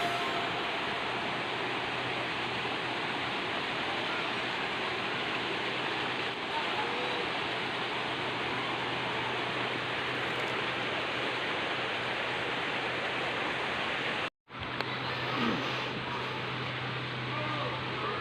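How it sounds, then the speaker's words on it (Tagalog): Rushing floodwater pours loudly and continuously during Typhoon Ulysses in Towerville, Bulacan, a dense unbroken roar with one brief dropout near the end. "napakalaki at napakataas ng pagtaas ng tubig dito"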